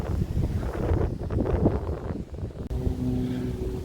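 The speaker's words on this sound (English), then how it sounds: "the wind's kicking up really bad" Strong wind gusts buffet an outdoor microphone near trees and a golf course, a loud rumbling roar that surges and dips before easing into a steadier low hum.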